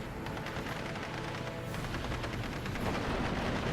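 Machine-gun fire crackles in rapid, overlapping bursts during a World War II strategy battle in Normandy, a dense, faint stream of shots with deeper booms, building slightly toward the end.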